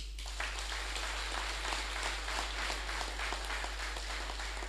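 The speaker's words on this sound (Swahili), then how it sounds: "naomba mumpigie makofi mengi sana mwenyekiti wetu" A crowd at a political rally claps steadily for its chairman, a dense, even patter of applause lasting several seconds over a constant low hum, heard from a slight distance.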